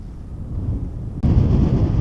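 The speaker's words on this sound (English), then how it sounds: "Holy moly, it's windy" Strong wind buffets a microphone on an Icelandic beach, a steady low roar that jumps abruptly louder halfway through and stays gusting hard.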